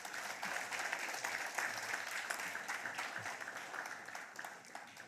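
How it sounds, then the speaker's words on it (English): A crowd at a taxpayer appreciation awards ceremony in Swakopmund, Namibia, gives a sustained, even round of applause lasting several seconds before it begins to fade. "Let's give them a fitting round of applause,"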